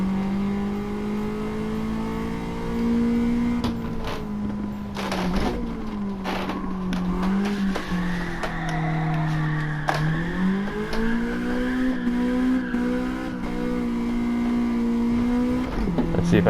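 Car in Gran Turismo 7 drifting on grippy tires, the engine droning and revving as pitch swoops up and down through the slide, with throttle lifts and sharp gear-shift blips, loud and continuous with no talk.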